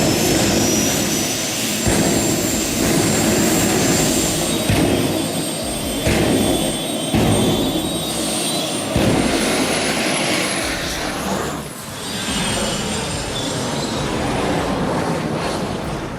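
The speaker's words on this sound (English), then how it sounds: "The turbine engine of the Plymouth Voyager roars fiercely, with cooling flames shooting out the back." A turbine-engined Plymouth Voyager roars loudly and steadily, a jet-like whine and rumble sustained throughout with a high whistling tone, easing slightly near the end.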